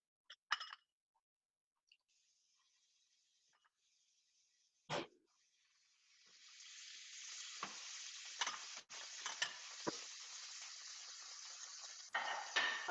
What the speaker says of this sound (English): You want it to sizzle as it hits that pan